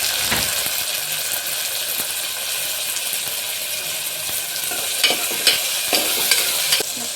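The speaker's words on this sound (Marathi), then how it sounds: "आता कांदा टाकल्यानंतर आपण टोमॅटो टाकूया." Onion and tomato frying in a pan with ginger-garlic paste give a steady, close sizzle throughout, with a few sharp clinks of stirring toward the end.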